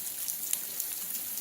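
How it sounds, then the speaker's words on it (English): Rain falls outside at night, a steady, even hiss of drops with a few sharper taps, close and fairly soft, with no voices. "it's really dark out here, it's raining."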